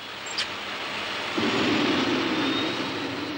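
A turbine engine on the Planète Blanche vehicle runs with a steady whine, then rises into a louder, fuller roar partway through as the throttle is pushed to full.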